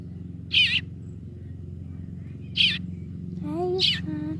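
A baby bird just found outdoors gives shrill, high chirps, two separate calls and then a quicker burst near the end, heard close over a steady low hum and background noise.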